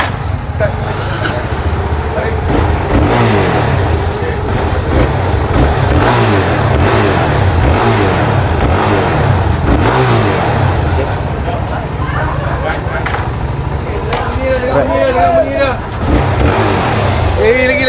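A Suzuki DR-Z4 SM supermoto motorcycle engine fires up and idles with a throbbing single-cylinder beat, then revs up a few times close by, while people talk in the background.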